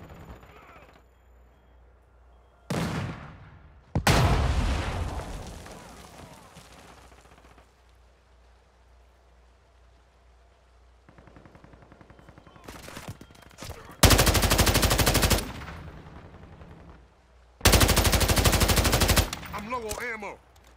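Gunfire in the Call of Duty: Modern Warfare II video game: several loud, rapid bursts of automatic weapon fire crack out in separate volleys, with quieter stretches of mechanical rattling and clicks between them.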